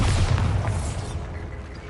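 A deep, rumbling blast from the Bombarda spell in Hogwarts Legacy on PS5, loud at first and then decaying into a noisy wash, with no voices over it.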